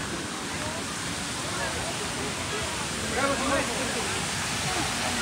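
Water pouring down from a waterfall into a lake in Purulia, a steady, dense rushing roar that fills the whole moment without letting up.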